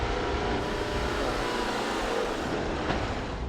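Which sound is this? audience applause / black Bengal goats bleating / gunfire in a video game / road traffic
road traffic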